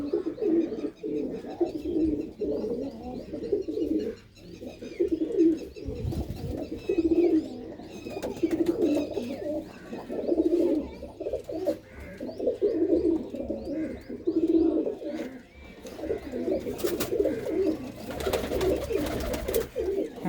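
A loft of pigeons in Kartarpur keeps up a long, continuous chorus of deep rolling coos, many birds overlapping nearby, with faint wing flutters and chirps now and then and no clear speech.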